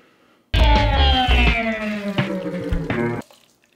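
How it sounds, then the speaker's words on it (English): Roast drippings from a slow-cooked red wine pot roast pour steadily for about three seconds with a gurgling, rising tone as a container fills, then stop abruptly. "let's pour our drippings in"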